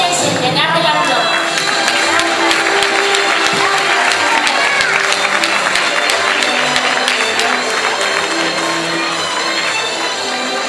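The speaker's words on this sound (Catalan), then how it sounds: "Despedim amb un fort aplaudiment" Loud, sustained applause from a large crowd at a Valencian falla ceremony, dense clapping filling the space, with voices and music mixed underneath throughout.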